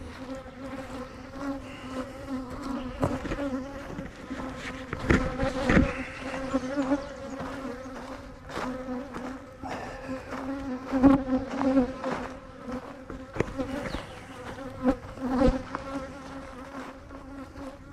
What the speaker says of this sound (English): these bees are totally different animals than they were on Tuesday